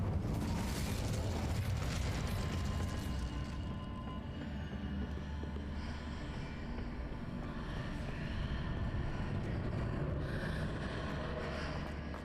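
An Incendio fire spell is cast in Hogwarts Legacy, a rushing, crackling whoosh of flame that bursts up at the start and then settles into a steady roaring hum, with no talk.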